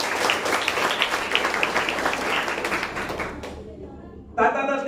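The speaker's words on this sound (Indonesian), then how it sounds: "Tepuk tangan untuk Miss Wahyuni." Audience at a school debate for student council candidates at a junior high in Jakarta claps as a crowd for about three seconds, then the applause fades away, followed by a brief gap and then a voice speaking.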